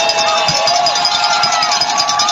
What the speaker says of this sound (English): Looking for some crowd noise.